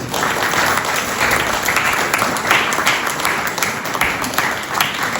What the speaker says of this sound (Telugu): ఒక్కసారి జూమ్కి వచ్చే వాళ్ళందరికీ కూడా బిగినింగ్ క్లాప్స్ అండి